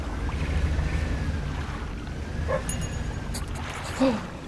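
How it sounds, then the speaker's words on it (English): A skinny brown dog splashing in the shallows in the fishing game Dredge gives a couple of short, faint barks or whimpers under a steady rumble of boat engine and water. "I hear a dog."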